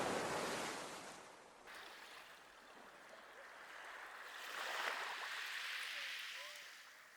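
Sea waves roll and wash along the Ceredigion coast, a broad hissing surge with wind that swells and eases over several seconds, with no one talking.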